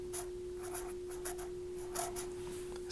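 Pen writing on paper in short bursts of scratchy strokes while filling in a table for a chemistry problem, close and fairly quiet over a steady background hum, with no talking.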